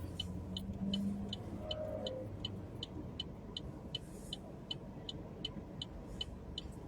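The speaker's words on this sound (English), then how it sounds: "Look at all this traffic." Steady low road rumble heard from inside a car in Atlanta traffic, with a faint regular ticking, like a turn signal, running throughout.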